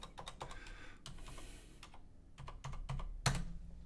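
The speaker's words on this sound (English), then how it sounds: "I know you love to watch me type" Fingers tapping a computer keyboard while working in an Excel spreadsheet, quiet irregular clicks in short bursts with one louder keystroke near the end, no talking.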